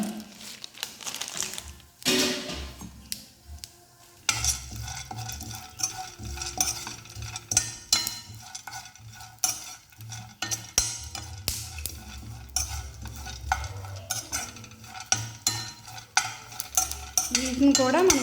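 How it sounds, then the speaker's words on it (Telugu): Pumpkin seeds frying in a pan for homemade dry fruit laddu, with repeated rattling, scraping stirs and a light sizzle, coming in uneven bursts close up and without speech. "అలానే పంకిన్ సీడ్స్ కూడా మనం ఇప్పుడు ఫ్రై చేసుకుందాం."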